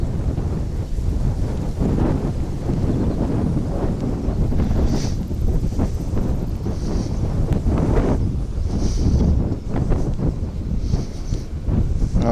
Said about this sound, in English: This is just the wind.